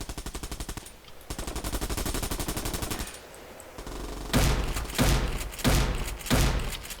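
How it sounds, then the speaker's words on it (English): Rapid automatic gunfire in the shooter game Bullet Run comes in two long rattling bursts, followed by several louder, heavier separate blasts. "I'm going to fire bullets vaguely in your direction and hope one of them hits"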